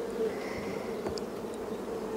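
Honeybees buzzing steadily in a small queen cage during hive work, a continuous close insect drone with a faint higher whine throughout.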